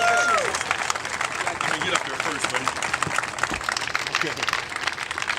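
Applause from the crowd at a charity event's opening ceremonies, a dense burst of clapping with cheering and voices mixed in, continuing at fairly steady loudness.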